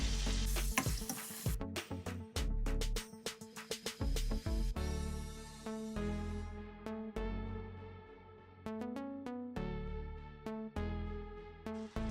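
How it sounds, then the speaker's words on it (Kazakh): Salad basket shape frying in a pan of hot oil while a ladle presses down in its centre, with loud close sizzling broken by repeated scraping and stirring knocks, no voices. "Айналдыра отырып қуырып шығамыз."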